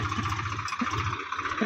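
A Swaraj 735 FE tractor, stuck in a farm field, runs its engine at a steady idle with a low, even rumble and a rhythmic throb that continues unbroken.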